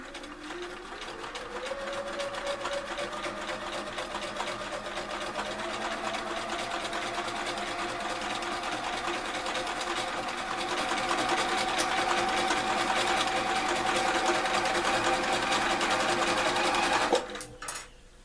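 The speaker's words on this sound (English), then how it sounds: "I'm continuing sewing the strips together." A sewing machine stitching fabric strips together for a Chinese lantern quilt block, a continuous close, whirring run with a slowly rising motor pitch that stops abruptly near the end, no talking.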